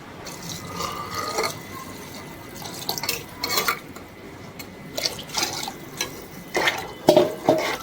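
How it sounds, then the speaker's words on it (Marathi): Water being poured into a pan of egg khichdi, a splashing, dripping trickle with intermittent clatter of the pan, close by and moderately loud, no talking. "पाणी टाकायचं आहे"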